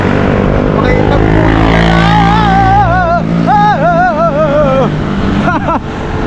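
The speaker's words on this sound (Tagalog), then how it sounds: "Ingay na mga motor, buwisit." Loud motorcycle engines rumble and rev close by in Antipolo, with a whining pitch rising and falling repeatedly, like motorbikes passing in traffic.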